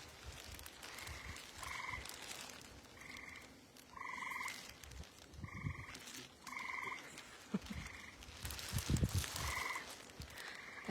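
Frogs croak outdoors at night in a rhythmic series of short, buzzy calls repeating every second or so, faint and distant against a soft rustling background.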